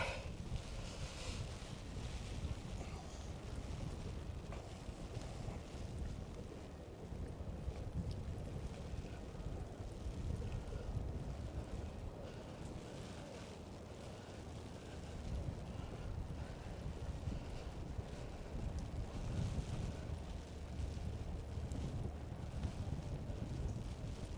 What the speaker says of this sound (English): It's a bit windy here now.